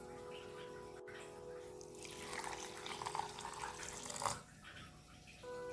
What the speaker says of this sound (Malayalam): കുറച്ച് വെള്ളമോടെ ഒഴിക്കുക.